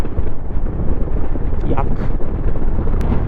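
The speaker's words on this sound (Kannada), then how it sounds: "ಗಾಳಿ ಬರೋಬ್ಬರಿ ಬಿಸಾಯತ್" Strong wind blasts steadily across an open microphone in Nubra Valley, Ladakh, as a dense, buffeting roar. Someone speaks a single word beneath it.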